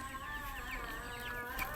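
Color bird chickens about 40 days old cluck and chirp quietly, with soft, scattered calls over a low background hum.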